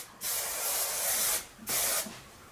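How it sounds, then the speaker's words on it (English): Hairspray hisses onto hair in two bursts, a long one of a bit over a second and then a shorter one, each a bright close spray with a quiet pause between. "So I spray down here"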